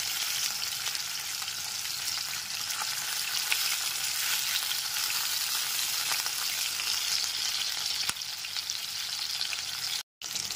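Fish pieces frying in hot oil in a wok over a medium gas flame, a dense, even crackling sizzle that runs steadily throughout, with a brief drop-out near the end.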